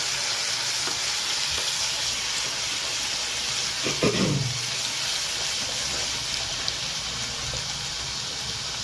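Ginger-garlic paste hisses in hot oil at the start of a spicy fish curry, a steady close sizzle throughout with a single stirring scrape partway through.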